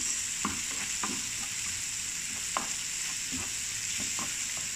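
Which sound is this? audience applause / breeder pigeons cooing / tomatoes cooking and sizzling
tomatoes cooking and sizzling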